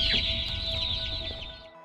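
Cheeping of the Opila Bird chick in the Garten of Banban horror game, a bright, steady high chirping with quick warbling trills, close and continuous for about two seconds before trailing off.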